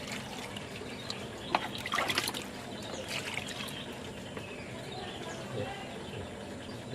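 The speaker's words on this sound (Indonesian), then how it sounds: "Kita bilas." A keris dagger rinsed with water, a soft trickle and splash with a brief louder pour in the middle, fairly quiet and close.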